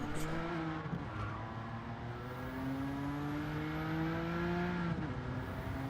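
A video game race car engine holds a sustained high revving drone at full throttle, pitch slowly climbing with a brief gear-shift dip, fairly quiet and steady with no voices.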